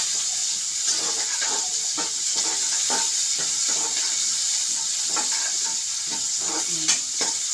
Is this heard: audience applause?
no